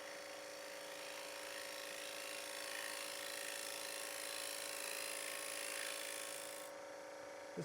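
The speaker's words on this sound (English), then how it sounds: "This maple doesn't really like to get scraped, I've found." A scraper cuts against a small maple bowl spinning on a wood lathe. It makes a continuous, even, rasping hiss over a low motor hum that holds steady for the whole stretch.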